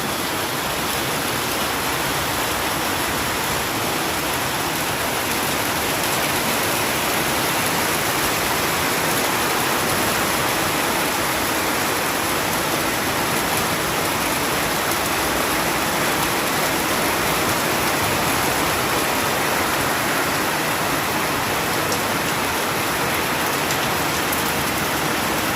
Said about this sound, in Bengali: বলতে না বলতে বৃষ্টি আবার শুরু হয়ে গেছে।